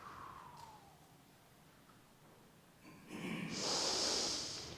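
A deep, slow exhale pushed out from the diaphragm, heard as a breathy rush of air that swells over the last two seconds after a quiet start. It is close and fairly loud, with no talking.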